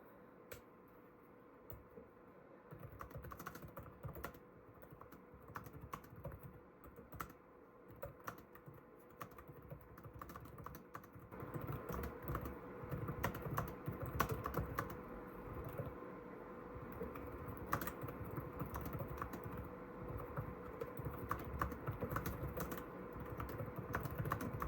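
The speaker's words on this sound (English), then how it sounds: "let's get in here and do a quick typing example" Rapid, continuous typing on a Lenovo ThinkPad X9 15 Aura Edition laptop keyboard, soft close clicks in a dense irregular patter that grows a little busier halfway through, with no talk.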